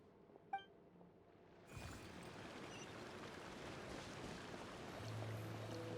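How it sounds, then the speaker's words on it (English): A video-game character walks across water with a sparkling effect: a faint tinkling chime, then a soft, continuous watery wash that builds gently and stays quiet throughout. "You can hear the sparkles too"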